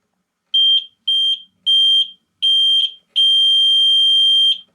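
Electronic buzzer of a homemade buzz wire game sounding each time the loop touches the metal pipe: four short shrill beeps in a row, then one long continuous tone, loud and close.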